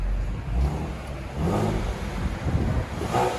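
A 2016 Ford Mustang with a 3.7L V6 and its stock mufflers still fitted revs in a few low, throaty surges that rise and fall, loud and close, with no one speaking.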